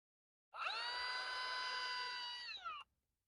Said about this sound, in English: using a 7x32 drill bit, I'm gonna try to go slowly and center my hole